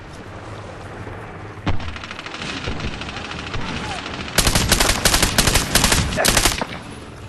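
Gunfire in the Medal of Honor Warfighter shooter game, with single heavy shots giving way to dense rapid automatic bursts that grow louder toward the end.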